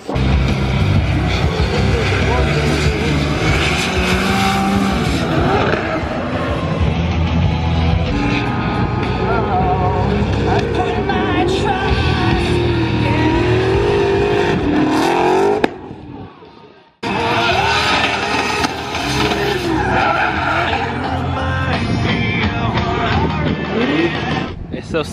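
Drift cars at a Formula Drift Pro2 event in Texas roar and rev loudly and continuously, with engine pitch rising and falling and a brief drop-out near the middle before the noise returns.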